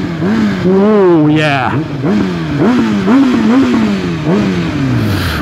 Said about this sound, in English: Oh, listen to that exhaust.